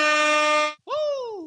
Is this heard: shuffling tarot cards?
no